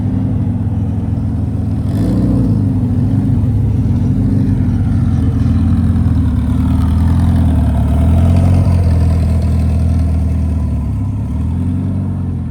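Boosted Honda cars idle and rumble at a car meet, a loud, steady low engine drone with slight rises in revs.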